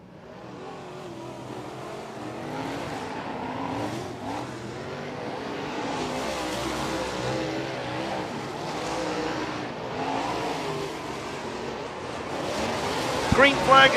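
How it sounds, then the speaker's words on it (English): Dirt Car UMP Modified race cars roar through a hot lap session at a dirt oval during a WinterNationals modified week, a steady wall of engine noise with revving and tire scrub while an announcer talks over it. "Green flag is out here in this hot lap session for the Dirt Car UMP Modifieds."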